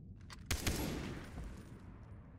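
Gunfire rings out in the video game Far Cry 3: a quick burst of two or three loud shots that trails into a long rumbling echo, with no talking.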